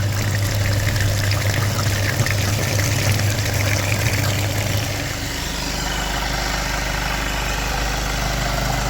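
A VW Passat B8 with EA288 diesel engine idles, humming steadily while water is flushed through its dirty cooling circuit, pouring and trickling; partway through, the engine note drops lower and the flow continues.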